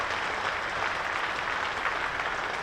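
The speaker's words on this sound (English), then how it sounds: "for which you can hear generous applause" Generous, steady applause rolls from a cricket crowd at a Hampshire versus Worcestershire one-day cup quarter-final, sustained and even throughout, distant and without any talk.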